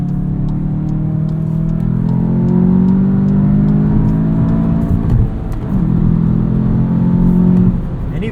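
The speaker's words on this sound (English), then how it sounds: "Engine gets really nice and responsive. Becomes a little bit louder in sport mode too." A 2022 Volkswagen Jetta GLI with a 6-speed manual, in sport mode, revs loudly and steadily, its engine note climbing through the gears with a brief dip in the middle, close and with no talk.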